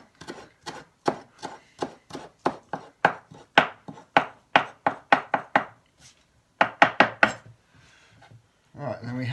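Fresh wild garlic chopped with a knife on a board, a brisk run of about twenty sharp, close chops in quick rhythm, a brief pause, then a few more cuts and some handling.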